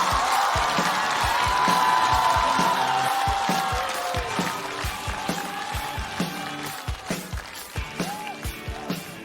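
Studio audience at a stand-up comedy show applauding and cheering as a comedian is welcomed onstage, a dense burst of clapping with whoops that fades over several seconds into scattered, isolated claps.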